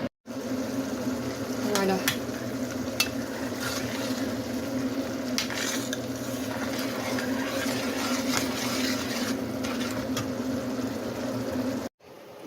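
Tomatoes cook down in a pan for a couscous sauce, giving a soft, continuous sizzle and bubbling simmer close by, with a few faint utensil clicks and a brief spoken word.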